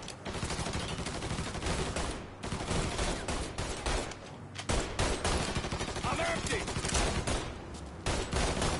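Dense gunfire in the Mafia III video game, rapid overlapping shots and bursts filling the whole stretch, loud and close with only brief lulls, with faint voices mixed underneath.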